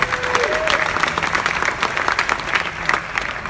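Steady applause from a sizeable audience at a startup pitch competition fills the whole stretch, dense and fairly loud, with a brief high whistle near the start.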